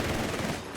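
MG42 machine gun fire in the WWII strategy game Company of Heroes 3, a dense continuous rattle of rapid shots with a busy battlefield din underneath and a slightly louder burst at the end.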